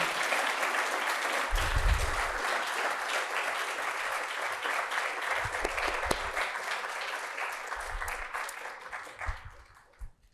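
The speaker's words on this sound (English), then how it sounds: "hearty round of applause is in order." An audience gives hearty, sustained applause after Professor Richard Swinburne's lecture, a dense wash of clapping with a few low bumps, fading out at the close.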